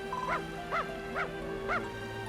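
Four evenly spaced cartoonish dog barks from the Dragon Quest Builders 2 video game, short and soft over a steady background music tone.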